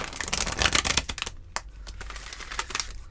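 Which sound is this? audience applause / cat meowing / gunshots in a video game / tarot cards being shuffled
tarot cards being shuffled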